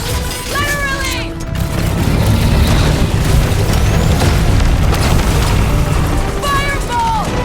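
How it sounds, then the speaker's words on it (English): A fireball explosion in the Guardians of the Galaxy game during the Fin Fang Foom fight roars as a loud, sustained booming rumble, with shouted character voices over it. "Fireball! Incoming!"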